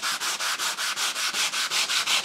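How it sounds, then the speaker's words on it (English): A guitar body is sanded by hand with sanding pads, producing rapid rhythmic back-and-forth rasping strokes, about a dozen in quick even succession, close and loud with no voices. "sand some of that down, maybe make my life easier"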